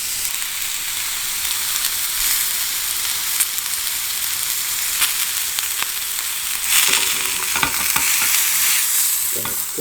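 A Black Angus ribeye steak sizzles steadily as it fries, with a dense, continuous crackle and a few sharper pops. The sizzle gets a little louder and busier toward the end, and no voices are heard.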